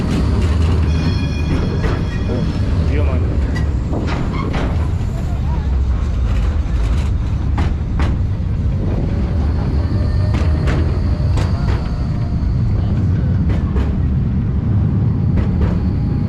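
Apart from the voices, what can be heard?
tram passing by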